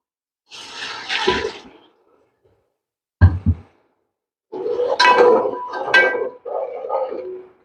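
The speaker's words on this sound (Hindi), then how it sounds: "और पानी हमने फ़ौरन ऐड करना है ताकि ये जो मसाले वगैरह हैं वो हमारे घी में जले ना" Water poured into hot ghee and spices for chicken mandi, a loud hissing sizzle that flares in bursts with a sharp clink between them.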